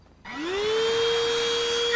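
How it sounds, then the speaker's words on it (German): A steady whirring drone like a vacuum cleaner starts abruptly after a moment of quiet, rising briefly in pitch and then holding a constant hum, fairly loud and close, with no talk over it. "Das hört sich ein bisschen an wie ein Staubsauger."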